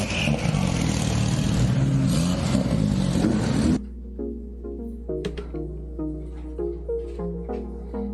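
A car exhaust roars loudly for a few seconds, then cuts off abruptly to quieter tonal sounds.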